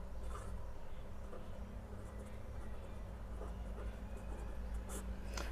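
Pen or chalk scratching steadily while a maths question is written out, a continuous scribbling texture over a constant low hum, with no talking.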